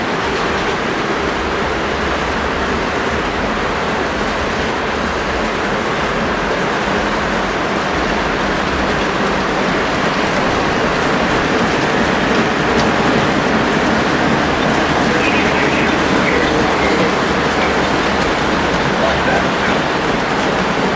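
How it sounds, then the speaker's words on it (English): Long, heavy model freight train rolling steadily along its track, a continuous dense rumble and rattle that stays loud and unbroken throughout, with no clear breaks. "Got a nice long freight with this one."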